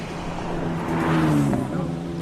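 A 3-litre six-cylinder Ford-engined race car launches off the line at a hill climb, its engine revving and rising in pitch as it pulls away, loud and fairly close.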